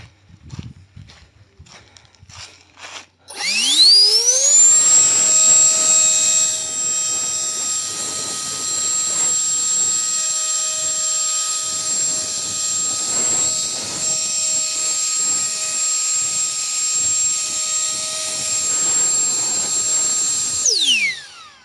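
A battery-powered ONEVAN cordless leaf blower spins up with a rising whine, then roars steadily and loudly for about seventeen seconds while blowing pine cones outdoors, before winding down at the end.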